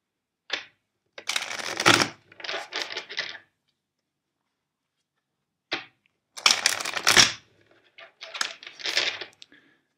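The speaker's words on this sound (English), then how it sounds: "Now let's shuffle first the cards" Two bursts of cards being riffle-shuffled, each a quick crisp flurry of rapid flicks, separated by a short pause; close and clear with no talking.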